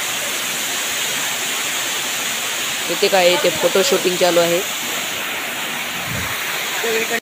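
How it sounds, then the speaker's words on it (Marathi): The Mukundraj waterfall at Ambajogai, India, roars in a constant loud rush, with a person speaking briefly over it midway. "हा आहे छोटा धबधबा आणि हा आहे मोठा धबधबा. याचा आवाज तर खूपच चांगला आहे."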